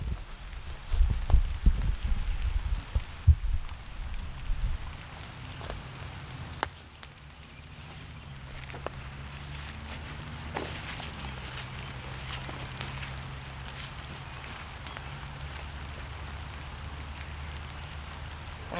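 Steady rain falls in the woods at a bushcraft camp, a soft continuous patter with scattered drops and a few louder knocks early on, heard alone with no voices.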